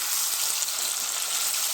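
Eggplant frying in a pan of hot oil gives a steady, close hiss and crackle that runs alone and evenly throughout.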